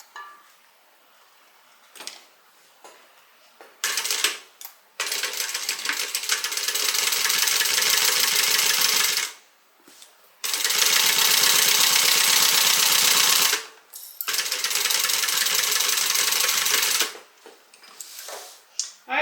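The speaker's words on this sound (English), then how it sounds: "And then we're going to go ahead and stitch this." A sewing machine stitches a narrow seam on a fabric tote bag, running in long steady whirring bursts of several seconds with brief stops between them, close and loud, with no voices.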